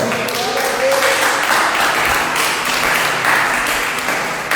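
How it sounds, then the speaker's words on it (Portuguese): Loud, sustained applause from a church congregation, dense and continuous throughout, with voices blended into the crowd noise. "Aplauda o Senhor."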